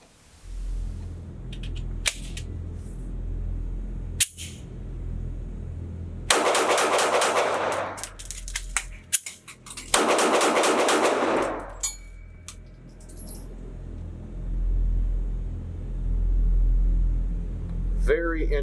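Shots from a Lone Wolf LTD19 Glock 19 clone pistol ring out outdoors on a range, with two strings of quick, loud, closely spaced shots separated by a pause for a slide-release reload and a few isolated cracks before and after.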